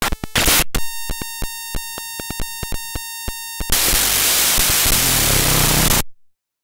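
Glitchy databent audio file played back as harsh static: rapid stuttering bursts with sustained tonal lines and hard cuts, giving way to a dense wash of loud white noise that stops abruptly near the end.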